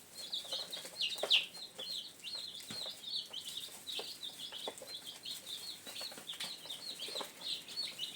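A group of young chicks peeps and chirps continuously at close range in a roomier pen, with frequent overlapping high calls and occasional light scratching or rustling among them.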